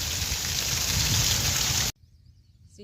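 Heavy rain pours in a dense, loud, steady hiss that cuts off abruptly partway through, leaving only faint background sound. No distinct thunder can be picked out.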